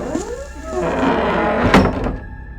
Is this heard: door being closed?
yes